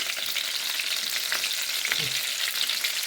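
Pumpkin cutlets fry in a pan with a steady, dense sizzle that stays loud and close throughout, alone without any talk.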